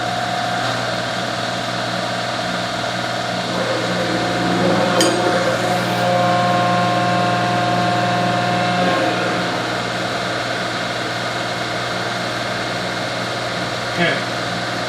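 A planer's hydraulic system runs steadily, its pump and motor humming with hydraulic fluid circulating. The hum is constant and mid-loud, with a brief clatter near the middle and another near the end.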